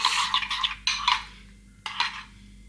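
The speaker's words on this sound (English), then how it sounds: "And then give it a good mix." A dessert spoon stirs a honey garlic marinade in a dish, making bursts of close clinking and scraping that pause, then return briefly.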